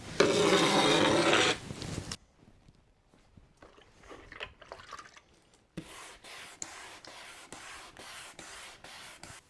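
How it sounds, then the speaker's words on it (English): A screwdriver tip scrapes across sanded wood: a loud rough rasp first, then quieter scratchy dragging with a regular ticking rhythm of small clicks. "If we drag a screwdriver over it, acting like a record needle, you can hear the difference after sanding."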